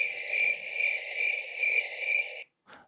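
Steady, continuous cricket chirping in a close, even trill lasting over two seconds, then a brief soft rustle after it stops.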